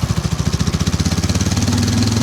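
A Hero Xtreme 160R 4V Pro motorcycle engine runs close and loud with a steady, rapid pulsing beat that smooths out and rises slightly in pitch toward the end, as if building revs.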